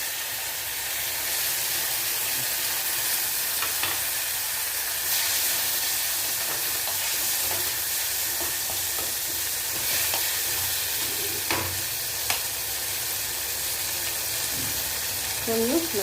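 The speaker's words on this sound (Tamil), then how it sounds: "இப்போ நம்ம தக்காளியை நல்லா புளிஞ்சு வச்சு சேர்த்துக்கணும்." Tomatoes squeezed by hand and onions sautéing in a pan for a traditional ghee bitter gourd kuzhambu, a steady broad sizzle running throughout with faint stirring scrapes, close and continuous, no talking.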